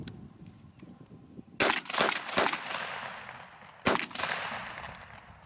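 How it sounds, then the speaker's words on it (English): Beretta A400 Xtreme Plus 12 gauge semi-automatic shotgun firing three rounds outdoors, two sharp blasts in quick succession then a third after a pause, each loud report trailing off in a long echo. "I'm going to fire 2 or 3 more rounds."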